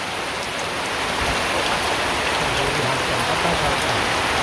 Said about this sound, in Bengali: এখন ঝড়ি নেই বেশি, হালকা হালকা ঝড়ি